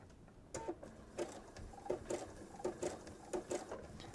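A sewing machine stitches placemat fabric for a strip-pieced kitchen set, making quiet, rhythmic ticking stitches in short repeated bursts over a soft background.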